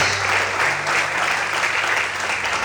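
A church congregation applauds during a Portuguese-language service, a loud, even wash of many hands clapping with a faint sustained tone underneath and no speech over it.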